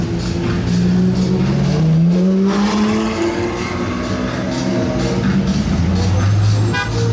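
A white Ferrari SP3 engine roars past with rising and falling exhaust tones and a sharp blip near the end, loud and close, with faint crowd noise behind, in Monaco during the Formula 1 Grand Prix.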